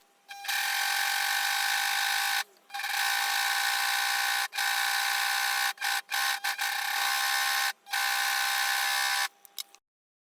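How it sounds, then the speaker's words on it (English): An overlocker serger runs in loud sustained bursts of steady high mechanical whirring as it finishes the fabric edge of a skirt facing, stopping briefly several times between runs. "I'm using an overlocker to finish my edges."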